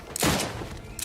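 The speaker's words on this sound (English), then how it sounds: "what are we shooting at?" Gunfire from a weapon in the sci-fi video game Outer Worlds 2, a loud burst of rapid shots filling about a second, with a brief second burst starting at the end.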